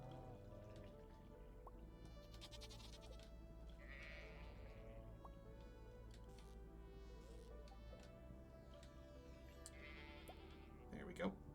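A goat in the Stardew Valley farming game gives two short, wavering bleats amid a soft, steady game soundscape, with a brief louder knock near the end.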